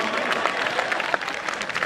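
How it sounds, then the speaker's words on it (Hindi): An audience at a Hindi comedy poetry gathering claps briefly in a quick, scattered burst of applause, close and fairly steady throughout. "एक बार ताली बजा दीजिए तो मैं शुरू हो जाऊं"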